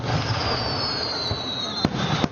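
Fireworks going off during a Fourth of July holiday, a dense continuous crackle and fizz with a whistling tone and a couple of sharp pops near the end.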